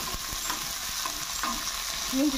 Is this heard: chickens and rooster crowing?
no